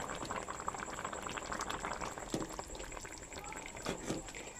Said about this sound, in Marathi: मला ढवळून दाखवतो